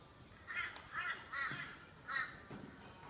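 A macaw parrot gives four or five harsh, raspy squawks in a loose rhythm, fairly close and moderately loud against a quiet background, with a soft extra call near the end.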